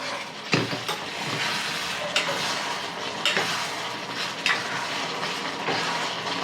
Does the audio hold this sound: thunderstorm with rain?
no